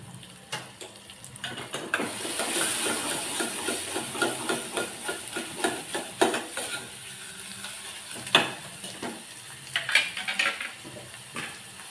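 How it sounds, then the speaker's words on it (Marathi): Ginger, coriander and garlic paste frying in oil for a potato curry, a low sizzle under a rapid series of scraping stirs and spoon taps against the pan, no speech. "अद्रक, कोथिंबीर, लसणाची पेस्ट टाकून घेऊ, फिरवून घेऊया।"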